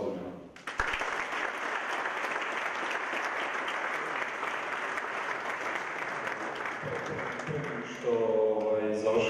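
Sustained audience applause at a WordPress talk, loud and dense for about seven seconds, then fading as a voice begins speaking near the end.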